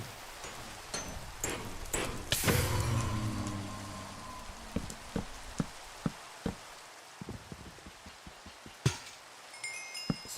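Steady rain in a video game patters in the background with scattered sharp ticks and drops, plus a louder burst of noise early on; no voices.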